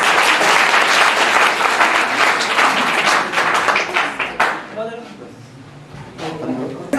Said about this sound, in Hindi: एक बार और ताली बजा दो भाई।